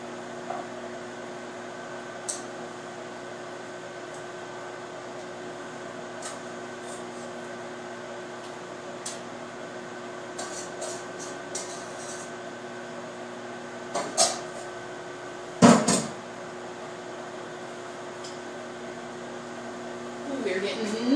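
Steady low electrical hum of a microwave oven running, with occasional clicks and soft clatter nearby and a brief louder knock partway through.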